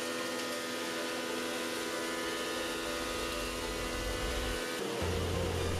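A woodworking jointer or planer milling boards, a loud continuous mechanical whine and rush of cutting that shifts to a deeper hum near the end.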